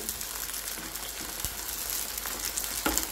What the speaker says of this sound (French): Donc je vais laisser mijoter